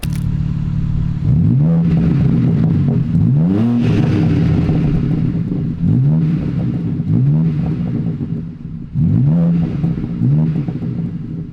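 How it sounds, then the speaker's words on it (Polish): A BMW M3 G80 with stock exhaust revs repeatedly, five or six sharp rising blips up to a roar and back down, loud and close over a steady idle rumble. "Posłuchajcie, jak brzmi w serii."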